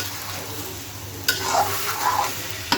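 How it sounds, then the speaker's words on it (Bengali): Pulao rice fries in a pan with a steady soft sizzle, broken by a few sharp scrapes of a spoon stirring the grains, with no voices over it. "ভাজা ভাজা করে নিই।"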